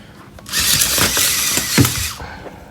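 A VEX robot's 600 RPM motor whirs for about two seconds as it lifts a screw-pivot arm, a close mechanical whine with gear rattle rising and falling, with no voices.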